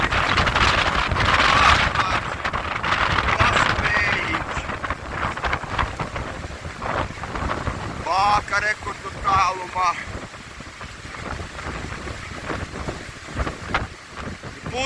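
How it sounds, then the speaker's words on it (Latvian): Strong wind gusts batter the microphone over rough North Sea surf off the Saltrød-Hove shore, a continuous churning roar that swells and eases, while a person talks over it. "Vau, Ziemeļjūra plosās"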